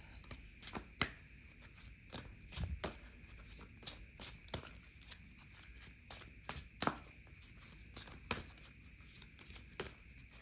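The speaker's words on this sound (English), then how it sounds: "I'll pull one more card for" Tarot cards are shuffled by hand before one more card is pulled. Soft, close riffling and tapping repeat in an irregular rhythm, quiet and alone.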